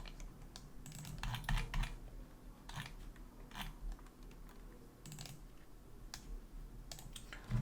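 Quiet, irregular clicking of keys being typed on a computer keyboard in short bursts, with no talking, during a live online session.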